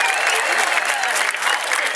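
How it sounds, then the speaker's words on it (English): Steady, dense applause from a large crowd at a homecoming football halftime ceremony honoring a 50th-reunion class, filling the whole stretch without a break. "Let's give them a round of applause."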